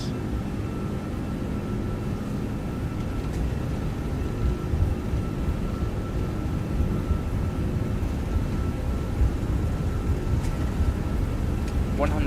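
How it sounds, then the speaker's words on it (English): Engines of a Lufthansa Airbus A340-600 at takeoff thrust, heard as a steady, heavy low roar from inside the aircraft, with a faint tonal hum above it and no talking. "Takeoff power set."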